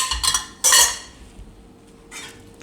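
Metal utensil clanking and scraping against a pan while mashing Jain pav bhaji vegetables, a few close, bright knocks with one louder burst, then quieter scraping.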